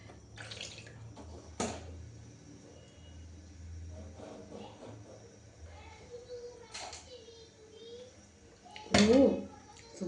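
Water is poured into a cooking pot in a home kitchen, giving short splashing and trickling bursts, one louder gush near the end. The sound is close, between quieter stretches, with faint background voices.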